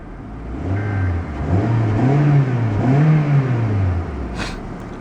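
A 2012 Honda Civic EX coupe's 1.8L engine revs up and down in a few rising and falling sweeps, loud and close, with a throaty mid-pitched drone and no talking.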